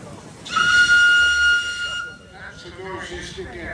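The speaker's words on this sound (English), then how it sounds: "Have we got a whistle on this one?" A single long, loud locomotive whistle blast sounds for about a second and a half, then fades into quieter rumbling and faint voices.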